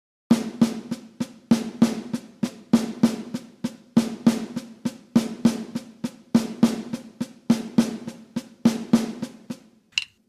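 Snare drum playing a steady semiquaver rudiment, the first two notes of each group of four accented, giving a driving repeated sticking pattern; close, dry and alone, with a cymbal touch at the very end.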